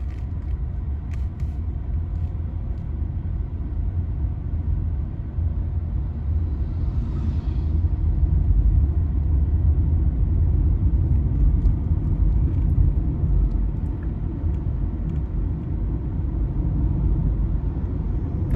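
A Tata Nexon EV coasts in single-pedal driving, without braking, over a speed breaker. A steady low road rumble and tyre hum fill the cabin, with a slight swell near the middle and no talking.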